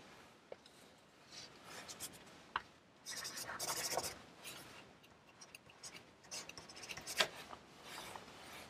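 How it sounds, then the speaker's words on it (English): Pencil scratches and rubs on paper while signing a drawing, faint, close-up strokes with short bursts and small taps. "I'm now going to sign my drawing in the professional manner."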